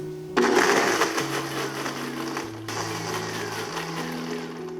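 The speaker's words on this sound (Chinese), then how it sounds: "用搅拌机打成紫薯泥" A blender whirs through 50 grams of steamed purple sweet potato and 150 grams of water, starting abruptly with a loud motor whine that shifts pitch as the purée thickens, running steadily without talk.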